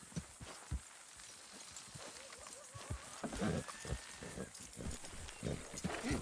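Horses in Red Dead Redemption 2, with hooves clopping and shuffling at a moderate distance under ambient outdoor game noise, scattered thuds, and a voice speaking over them.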